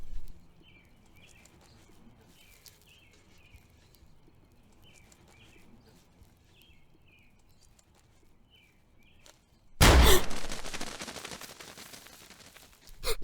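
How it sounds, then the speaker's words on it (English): A single loud gunshot cracks in a wooded area and echoes among the trees, its sharp burst trailing off in a long reverberant tail after quiet stretches of faint bird chirps. "It's hard to tell where the gunshot comes from."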